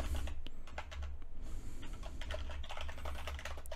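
Steady rapid typing on a computer keyboard close to a desk microphone, a continuous patter of key clicks over a low background hum, with no talking.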